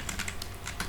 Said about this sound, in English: press escape key in your keyboard, then press shift Z